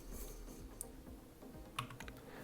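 Quiet typing on a computer keyboard, a few scattered light key clicks against a low background hum.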